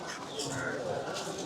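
Ordinary domestic pigeons for sale at Broadway pet market in Chennai coo softly. The cooing sits within a busy blend of market chatter and background voices.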